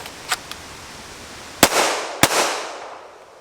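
Springfield Hellcat Pro handgun with a threaded barrel fired outdoors: a couple of faint early pops, then two loud, sharp shots about half a second apart, each trailing off with a short echo.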